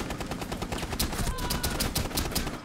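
Rapid gunfire from a Rainbow Six Siege match crackles in a quick series of sharp shots, rather faint and steady over a background of game noise.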